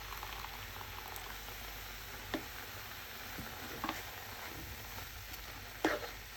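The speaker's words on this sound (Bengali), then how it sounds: "হচ্ছে দুধটা দিয়ে দিচ্ছে গাজরের হালুয়াতে।" Carrot halwa bubbles in a pan at home as milk is poured in, a soft continuous simmer with occasional small pops and stirring clicks, quiet and close with no talking.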